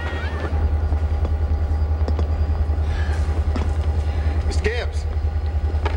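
A train runs with a steady low rumble and rhythmic mechanical drone throughout, with occasional clanks and squeals over it, while people talk nearby.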